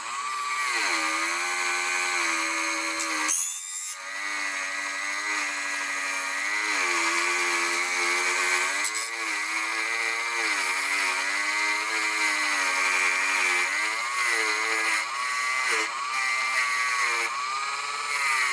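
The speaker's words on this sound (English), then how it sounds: "usually I use a Dremel with a metal flywheel or metal brushing, wire brushing" A Dremel rotary tool fitted with a wire brush scours calcium buildup off a part during a Philips Prestige repair, a steady high-pitched whine with wavering pitch that runs close and loud throughout with one brief dip.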